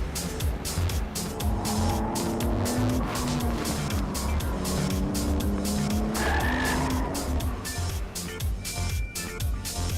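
A Nissan Skyline GT-R R34 Nismo Z-Tune with its RB26 engine is driven hard on a mountain road: loud, sustained engine roar with rising and falling revs through gear changes, overlaid by squealing tyres.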